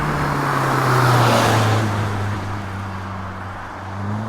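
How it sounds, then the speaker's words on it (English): Caterham CSR sports car easing off the throttle in fourth gear, a steady close engine drone with low harmonic hum and broad road noise that swells slightly then settles, no voices. "you lift off in fourth gear, you get a little bit of noise"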